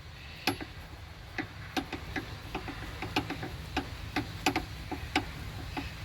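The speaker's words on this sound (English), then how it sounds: "I've got my 10mm. Gonna unscrew that right there." A 10mm socket ratchet loosening a bolt on a BMW N54 engine bay, a run of sharp, evenly spaced clicks over about a dozen strokes, close and fairly quiet against a low background hum.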